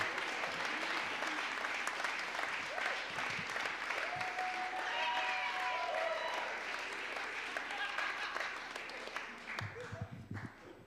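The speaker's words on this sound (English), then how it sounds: "Keep that applause going for the Battle of the Solar Plexus" Sustained audience applause at a stand-up comedy show fills the room, steady clapping from a crowd that thins out toward the end, with a brief whistle or tone running through the middle.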